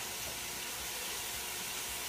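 Precooked andouille sausage browns in a hot pan for jambalaya, giving a steady, even sizzle and hiss that stays at a constant level throughout, with no talking.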